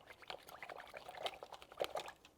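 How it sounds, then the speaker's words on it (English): A paintbrush swished and rinsed in a water cup, with quick sloshing splashes and trickles coming close and fairly loud in irregular bursts, no voice. "I'm going to rinse off my brush really"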